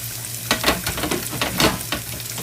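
Yak ribeye steaks sizzle on a grill with a loud, continuous crackle, and a few louder spattering bursts rise and fall over a couple of seconds.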